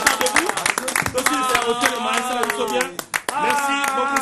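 Studio audience clapping at the close of the Zamba Zamba TV show, a dense run of applause with steady hand claps under music and a voice, with a brief dip near the end before it resumes.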